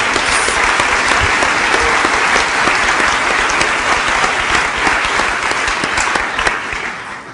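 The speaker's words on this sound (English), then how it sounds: "Let's give him a big applause for." An audience at a green-future conference claps loudly and continuously for a birthday guest, a thick close roar of many hands that stays strong before easing slightly near the end.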